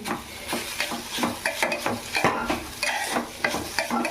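A utensil stirs carrots frying in ghee in a pan with quick, busy scraping and clinks over a constant sizzle, close and loud, with no voices.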